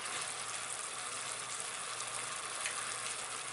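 Garlic sizzling and frying in hot oil in a pan for a vegetable soup, a steady, dense crackling hiss that holds at an even level throughout with no talking.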